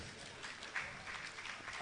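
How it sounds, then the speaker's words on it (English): An audience at a World Teachers Day event applauds, a fairly faint and steady patter of many hands clapping, with a brief louder burst partway through. "A big round of applause, please"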